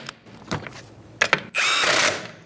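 A power tool with a 21mm socket tightening lug nuts on a 2010-2013 Kia Soul wheel, a few short clicks and clanks, then a loud steady whirring run lasting about half a second.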